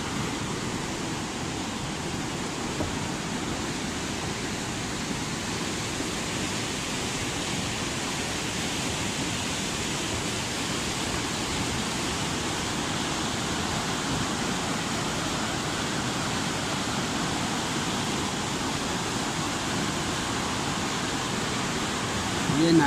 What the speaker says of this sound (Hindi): शुगर का नाला है ये।